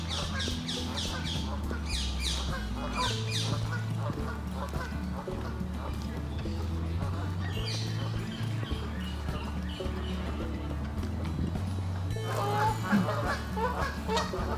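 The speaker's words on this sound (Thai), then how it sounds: "มีเสียงห่าน" Geese honk repeatedly over a steady outdoor background of low rumble and other birds, including pigeons, with brief voices now and then, in an English park with large trees.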